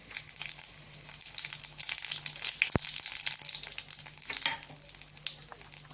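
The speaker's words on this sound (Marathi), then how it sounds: "तेल आपलं तापलेलं आहे आता आपण मोहरी टाकून घेऊ" Mustard seeds crackle and sizzle in hot oil for a tempering for a safflower-greens dish. The frying is close and continuous, with dense popping and one sharp tap midway.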